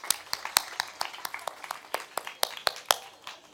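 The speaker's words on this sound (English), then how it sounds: "So, let's clap for ourselves." A small audience at a children's storytelling session at a Bangalore literature festival claps for itself, producing a quiet, uneven patter of separate hand claps over a few seconds.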